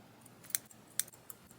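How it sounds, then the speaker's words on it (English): Scissors snip through chunky yarn while a kids' sweater is hand knitted, giving a few quiet, sharp clicks spaced apart in a hushed room. "Scissors is not cooperating."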